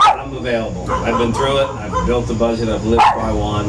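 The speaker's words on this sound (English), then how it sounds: "sorry about the dogs" Dogs bark and yip in the background behind someone talking loudly and continuously, with a couple of sharper barks cutting through near the start and again toward the end.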